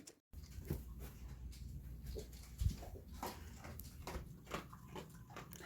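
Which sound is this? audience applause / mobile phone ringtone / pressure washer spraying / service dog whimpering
service dog whimpering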